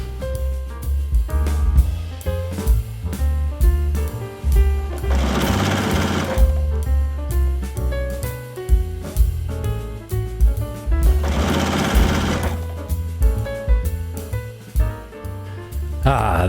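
A sewing machine stitches quilt sashing on a jelly roll sampler quilt, its steady close mechanical whirr running in long continuous bursts with brief pauses and faster revving stretches.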